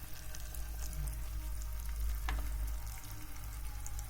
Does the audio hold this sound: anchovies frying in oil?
yes